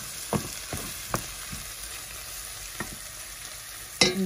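Tomato paste sizzles and fries in butter in a pan, a soft steady crackle punctuated by several sharp scraping stirs of a utensil.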